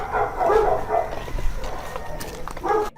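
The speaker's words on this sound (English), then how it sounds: "Dog howls can be heard resembling the crying" Dog howling and whimpering at night, a mournful, moderately faint wail rising and falling over about three seconds against a low rumbling background.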